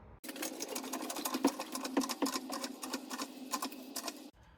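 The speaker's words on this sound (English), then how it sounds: "I plan on jacking the car up on its rusty sill" Mazda MX5 raised on a jack placed under its rusty sill: a rapid, even ratcheting clatter from the jack close up, running steadily for about four seconds before stopping abruptly.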